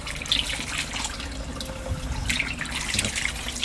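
Water runs and splashes steadily while a pond housing golden apple snails is being washed out, a close, continuous trickling with small drips and splatters and no talking.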